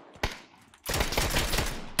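PUBG gunfire in a desert firefight, with a single sharp shot, a brief pause, then a loud, rapid volley of shots close by.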